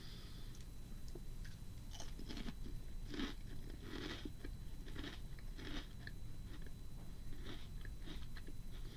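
Close, crisp crunching and chewing of ketchup-flavoured potato puffs, a steady run of bites and mastication over a low background hiss.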